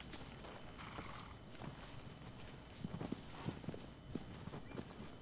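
Horse hooves clip-clop steadily in Shadow of the Colossus, with a whinny early on; the rhythmic hoofbeats grow louder and more distinct toward the end over a constant game ambience.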